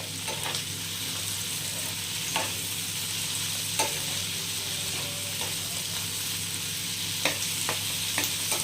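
Cashews roasting in desi ghee in a pan give a steady, soft sizzle close by, broken by a few light scrapes of stirring, with no talking.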